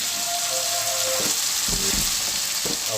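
Ground beef with chili garlic sauce frying in a pan, a constant close crackling sizzle with a few soft stirring scrapes and knocks, no talking.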